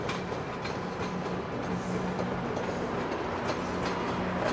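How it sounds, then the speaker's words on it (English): A GO commuter train heading out from Union Station rumbles past at steady volume, wheels clattering on the rails in a continuous, fairly close roar. "There goes a GO train."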